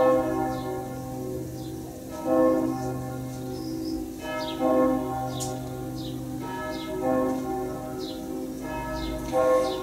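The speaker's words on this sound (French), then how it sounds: "Là, la cloche résonne encore un tout petit peu." A bell rings out with a long, deep resonance that keeps humming and slowly fading between a few softer repeated strikes, alone in a quiet room.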